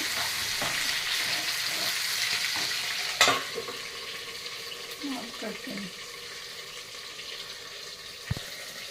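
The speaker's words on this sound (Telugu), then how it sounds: "ఐదు నిమిషాలు ఇలాగే వేగనివ్వాలి" Eggplant pieces fry in a pan for an Andhra-style brinjal curry, a constant close sizzle with a sharp clatter and a brief voice partway through, then a softer steady frying.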